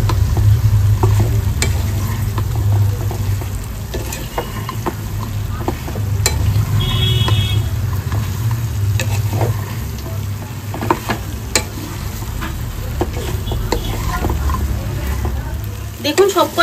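Egg 65 pieces being stirred and fried dry in a pan, with a continuous loud sizzle and scattered scraping taps of the spoon, with a voice talking over it.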